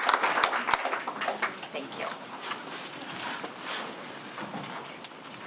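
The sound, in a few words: applause for public servants at a committee meeting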